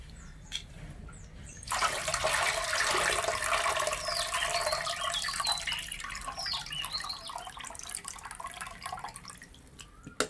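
Soaked rice being washed in water in a home kitchen, with quiet, continuous sloshing and trickling water plus a few faint drips, close up and with no voices.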